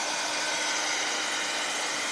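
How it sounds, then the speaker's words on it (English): A heat tool for drying snow texture paint on a reindeer Christmas gnome runs with a steady, loud, unbroken whirring blow from start to finish, with no voices. "I'm gonna hit this all with the dryer real quick"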